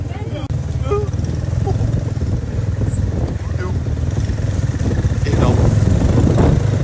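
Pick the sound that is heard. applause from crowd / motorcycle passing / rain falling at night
motorcycle passing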